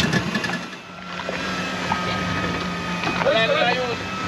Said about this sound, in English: Hold on, watch the engine.